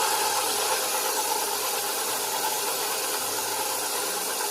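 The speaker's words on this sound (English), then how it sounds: "let's let your dough hook work and wait until they all mix" Stand mixer fitted with a dough hook kneads homemade pasta dough in a bowl, giving a steady motor hum with a hissing whir that holds even and unbroken throughout, no voices present.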